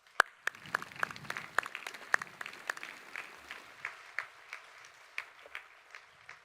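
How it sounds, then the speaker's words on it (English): Scattered applause from a graduation ceremony audience at a high school, individual claps distinct and echoing in a large hall, thinning and fading toward the end. "Please join in giving them a round of applause."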